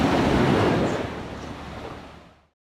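Ocean waves wash onto a bay shore near a moored boat. A close, full, rushing surge slowly fades out over about two and a half seconds.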